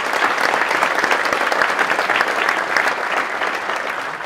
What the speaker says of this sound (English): I'd just like to ask that we give a round of applause to the organisers